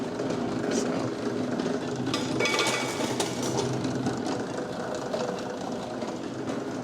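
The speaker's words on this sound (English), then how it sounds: "This is the newer roller mill that we use to crush nuts." Homemade roller mill crushing hickory nuts, a loud continuous mechanical grinding and rattling with crunching bursts and clatter, running steadily close by.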